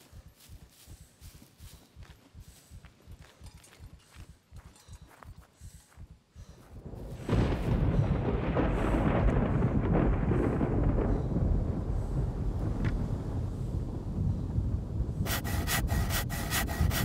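A thunderstorm in the video game SCUM breaks in as a sudden, steady rain-like roar, following several seconds of rhythmic scraping strokes.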